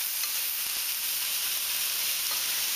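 Turkey patties browning in a hot pan, an even, loud sizzling hiss that runs without pause, with a couple of faint taps from a utensil.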